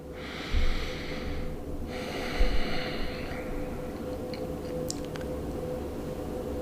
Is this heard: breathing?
yes